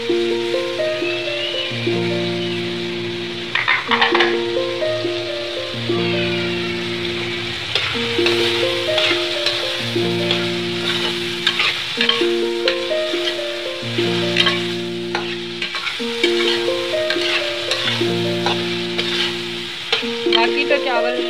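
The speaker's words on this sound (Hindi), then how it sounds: "अभी मैं सारे मसाले डाल के भून रही हूँ" Spices, peas and green chilies sizzle in a pan, with stirring scrapes throughout, over steady background music.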